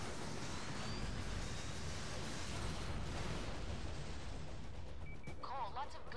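Gunfire from enemies in the video game inFamous, a dense continuous roar of shots and blasts filling the clip at steady loudness, with game sounds chirping faintly toward the end.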